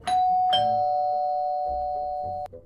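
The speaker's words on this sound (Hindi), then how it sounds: "तभी उसके दरवाजे की डोरबेल बजती है" A doorbell rings loudly with two bright chimes in quick succession, the second tone ringing on steadily for a couple of seconds before cutting off, with no talk over it.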